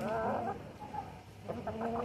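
A rooster on a Brazilian home flock where chickens are raised gives a few close, loud clucks, a sustained burst at the start, then a pause and a quicker run of clucks near the end.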